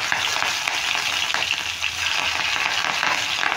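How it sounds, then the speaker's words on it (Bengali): Whole cumin, radhuni and chopped green chilli sizzle and crackle steadily in hot oil, a close, dense frying hiss with no voices. "এবার ফোড়নে দিয়ে দিচ্ছি গোটা জিরে একটু, আর দিয়ে দিচ্ছি বন্ধুরা এখানে একটু রাঁধুনি।"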